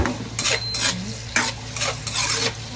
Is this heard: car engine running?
no